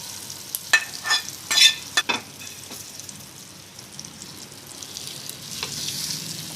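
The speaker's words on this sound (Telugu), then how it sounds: "పచ్చడిలోని తాలింపు అంతా కలిసేంత వరకు కూడా కలుపుకోవాలి" Tempering of mustard seeds and fenugreek is stirred into raw mango chutney with a spoon. A few sharp scraping clinks come first, then a quiet, continuous soft sizzle and mixing sound up close.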